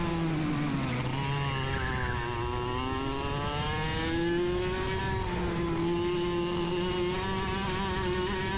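A race car engine held on a cautious, light throttle during a race, droning from up close with a wavering, gently rising and falling pitch, and a few small swells in revs that never reach a full-throttle scream.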